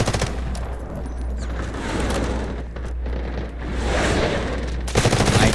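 Gunfire in the Delta Force shooter game, loud rapid bursts of automatic fire crackling over a low steady hum, ending with a sharper close volley.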